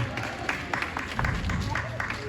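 Audience clapping at a live stunt demo show, a short burst of rhythmic applause with crowd noise and voices mixed in over it.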